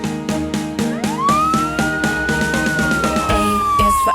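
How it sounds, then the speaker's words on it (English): A wailing emergency siren sweeps up and holds a long rising-falling tone, loud and close, layered over a bouncy children's song beat with no spoken words. "Ambulance."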